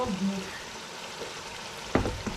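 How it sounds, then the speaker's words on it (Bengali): Onions and garlic sauté in a pan during home cooking before Eid, with a soft, continuous sizzle underneath, a faint stirring scrape, and a couple of sharper utensil knocks near the end. "পেঁয়াজটা ভালো করে কষিয়ে নিচ্ছি"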